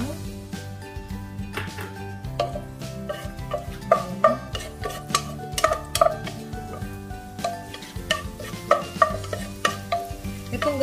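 Garlic crackles in a little hot oil for beef caldereta while a utensil clinks and scrapes against the pan in an uneven rhythm, close and fairly loud, with someone talking over it.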